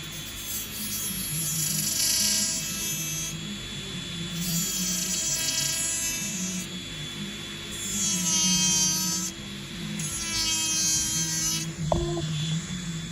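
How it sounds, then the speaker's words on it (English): A small electric nail drill with an extra coarse sanding band whines steadily at high speed while shaping acrylic nails, its pitch dipping and rising as it presses and lifts in repeated passes, with a brief clack near the end. "this is how I start off my shaping process with the extra coarse sanding band"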